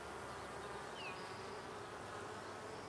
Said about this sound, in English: This is not a very big swarm.